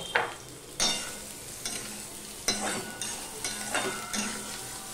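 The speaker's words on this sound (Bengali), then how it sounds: "এবার সয়াবিনগুলো আমি ভেজে নেব।" Soybean chunks frying in a pan, several bursts of stirring scrape and sizzle roughly every second over a steady low frying hiss, close and moderately loud with no talk.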